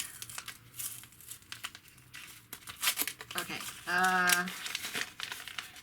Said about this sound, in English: let's open the envelope and see what accessory I got